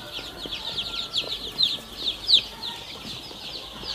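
Two-day-old chicks in a brooding pen under a heat lamp, chirping in a dense flock of small high peeps with a few louder calls standing out over a steady murmur.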